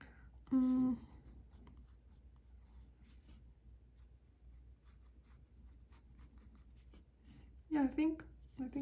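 Pencil shading on paper while sketching a portrait: a faint, steady scratchy rasp runs throughout, with short bursts of a voice near the start and end.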